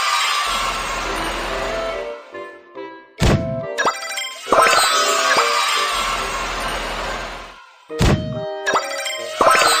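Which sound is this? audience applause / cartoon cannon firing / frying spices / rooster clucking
cartoon cannon firing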